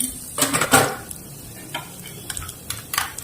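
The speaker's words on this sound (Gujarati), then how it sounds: "તેલ ગરમ થઈ ગયું છે, રાઈ નાખીએ, જીરું, હિંગ" Mustard seeds, cumin and asafoetida hit hot oil in a pan: short crackling bursts and pops cluster near the start, then scattered spitting crackles follow over a quieter background, close and fairly loud.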